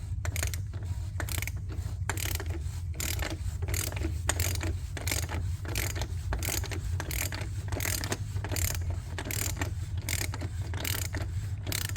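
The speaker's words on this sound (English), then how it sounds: "I'm gonna use my 1/2 inch ratchet to open it" A 1/2 inch ratchet clicks in a fast, steady, even rhythm while loosening the oil filter housing on a Mercedes S550 W222 engine, close up and continuous throughout.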